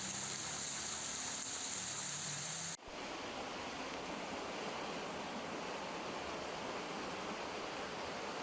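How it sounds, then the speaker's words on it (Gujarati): Floodwater rushing through streams beside a highway in a Kutch town after heavy rain, a continuous broad roar of water, steady and loud, cutting in abruptly after a brief different noise, with no voices. "ભારે વરસાદને પગલે ભારે પાણી વહી રહ્યું છે"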